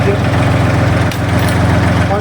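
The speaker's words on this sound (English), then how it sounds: "Start the engine." A robotic brushcutter's engine idles loudly and close by with a steady, pulsing low throb throughout.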